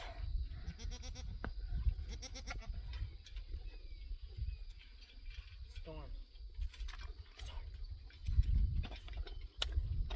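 A dairy goat doe bleats several times at a milking stand before a milking machine is used, with shuffling and clattering nearby and a person talking quietly.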